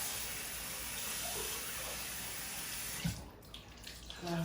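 A faucet runs steadily to wet a washcloth for a home facial, a close, continuous watery hiss that breaks into splashes and shifting flow near the end.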